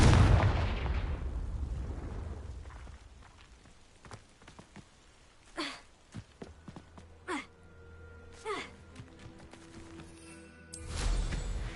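Spell blasts in Hogwarts Legacy, opening with a loud, rumbling explosion that fades, followed by scattered sharp cracks and whooshing magical bursts, then another heavy blast near the end.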